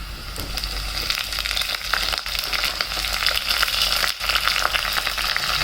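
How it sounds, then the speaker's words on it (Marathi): Green chillies fry in a pan over low heat for curd kadhi, a loud continuous close sizzle with crackling bursts and a couple of short breaks, with no voices. "व्यवस्थित ब्राऊन कलर होईपर्यंत त्याला छान फ्राय करायचं आहे."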